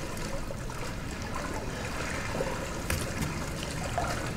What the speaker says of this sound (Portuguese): Tem que ir nadando, cara. Tô passando essa água podre